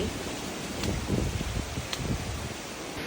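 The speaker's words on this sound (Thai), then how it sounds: "ลมพัด ฟิลบกสบาย" Wind blowing along a mountain trail on Khao Chang Phueak in Thong Pha Phum, Kanchanaburi, a continuous rushing gust over the microphone with soft rustling and occasional light thumps, heard without talk.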